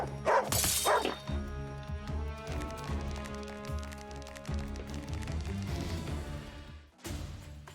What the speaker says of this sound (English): This dog is hungry for bones.